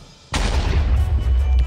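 A bomb from the Xplosives mod detonates in Minecraft, one abrupt loud boom breaking a quiet moment, followed by a rumbling, crackling tail that keeps going to the end.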